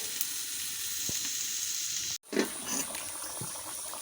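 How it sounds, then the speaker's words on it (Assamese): Meat boils in a pot on the stove, giving a constant bubbling, sizzling hiss that cuts out for an instant midway and then resumes at a similar level, with no talking. "মাংস পূৰা উতলি আছে।"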